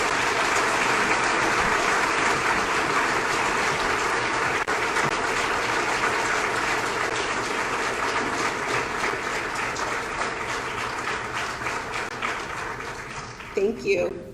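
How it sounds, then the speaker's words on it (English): Audience applauding at a spring capstone festival, sustained loud clapping that gradually thins and fades toward the end. "audience, if you could please give them a round of applause"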